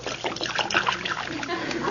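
Johnson's Glo-Coat self-polishing floor wax pours out onto a floor in a steady splattering trickle, close and fairly loud throughout, with faint voices in the background.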